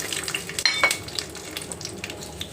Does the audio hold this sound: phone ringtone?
no